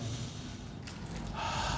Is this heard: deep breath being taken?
yes